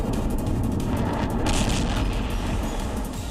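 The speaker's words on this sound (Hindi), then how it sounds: "उनकी स्पेस कंपनी ब्लू ओरिजिन के रीयूजेबल रॉकेट न्यू ग्लेन परीक्षण के दौरान जोरदार धमाके के साथ फट गया" A Blue Origin New Glenn reusable rocket blows apart during a test at Cape Canaveral, Florida: a continuous, loud, rumbling blast roar with a brighter surge midway, filling the whole stretch with no speech.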